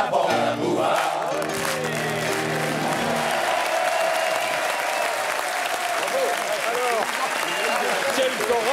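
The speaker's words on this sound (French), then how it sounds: "Messieurs, on applaudit la bande à Bouvard" A French TV studio audience applauses loudly for the Bande à Bouvard comedy troupe. The clapping is dense and sustained, mixed with crowd noise and cheers, and a faint voice or music can be heard early on.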